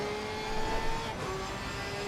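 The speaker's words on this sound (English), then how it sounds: "Porsche Cup car is definitely the best sounding car" A Porsche Cup race car engine in Assetto Corsa Competizione drones steadily at moderate distance with a sustained tonal whine that briefly dips and shifts midway, fairly quiet and with no talking.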